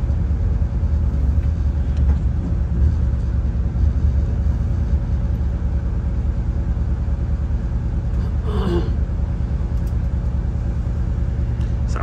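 A Northern Class 170 diesel train approaches and passes, rumbling steadily close by, a low continuous engine drone with a brief brighter rattle partway through, no voices.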